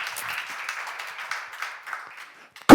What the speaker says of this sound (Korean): 박수로 하시죠.